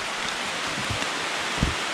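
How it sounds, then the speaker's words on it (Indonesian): Steady rain falls on a mountain trail, an even, soft hiss of drops with a few dull low thumps nearby and no voices. "Sekarang udah bener-bener mulai hujan guys, terus kita sampai pakai jas hujan."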